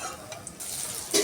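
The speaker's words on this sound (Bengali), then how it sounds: "এবার একইভাবে বাকিগুলোও ভেজে নেব।" Fish chops made from Bombay duck fry in a pan with a soft, close sizzle, broken by faint scraping and a brighter burst of spattering near the end.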